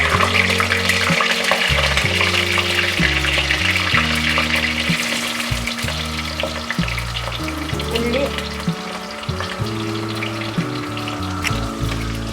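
Garlic, ginger and onion sauté in hot oil in a pan, a loud, steady sizzle and crackle running throughout with occasional stirring scrapes; a musical tone plays underneath.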